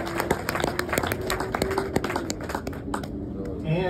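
A crowd at an accessible patio reveal applauds its employees, with dense clapping and a few sharp claps over a murmur of voices before the applause fades out near the end.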